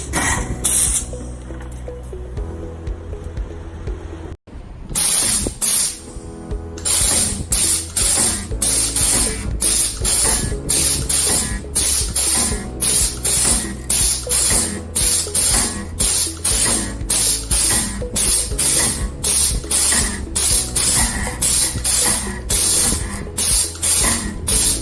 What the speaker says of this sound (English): Press the foot switch, you will see the welding taking place.